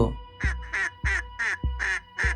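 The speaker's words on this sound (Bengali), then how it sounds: "এই দেখ, হাঁস আর হাঁসের বাচ্চা।" Ducks quack close by, six or so loud nasal calls in a quick, fairly even rhythm with brief gaps between them.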